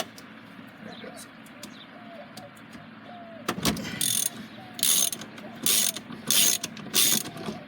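Ratchet wrench loosening a 19mm bolt on a car steering wheel, with several loud bursts of rapid clicking in the second half and faint background noise between them.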